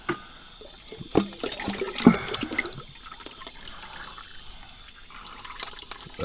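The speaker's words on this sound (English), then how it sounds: "That was just going to keep on flowing because of that pickup tube." Hydraulic fluid flows and drips out of the pickup tube of a Farmall 806 tractor, a close, uneven watery trickle with splashy drips and a few sharper spills early on, no voices.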